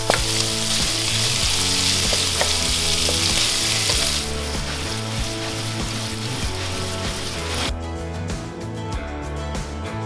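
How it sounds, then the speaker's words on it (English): Six slices of cut-up bacon fry in a pan with a loud, dense, continuous crackling sizzle that stays close and steady, softening slightly partway through, with no voices. "This is 6 slices of bacon cut up. We're just gonna go ahead and cook these."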